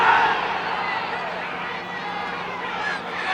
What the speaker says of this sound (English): the crowd began to react